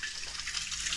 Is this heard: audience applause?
no